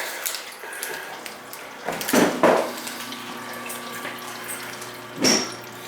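A sewage injector pump in the lower level of a commercial building runs continuously, giving a low steady hum and churning water sound with a few louder surges, heard up close.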